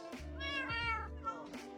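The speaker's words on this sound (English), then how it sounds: "Okay, so we have 20 cats." Several cats meow in a video game, with a steady harmonic mewing tone holding through the clip and a second meow rising near the end, all over a constant low hum and with no talking.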